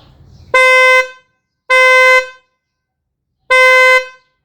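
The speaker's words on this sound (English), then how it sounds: "what it sounds like when only the high pitch horn is working and the low pitch horn is disconnected or bad" Three sharp, thin Kia Sportage horn blasts from the high-pitch horn alone, the low-pitch horn disconnected or bad, a bright high tone with no deeper note, each about half a second long with short gaps.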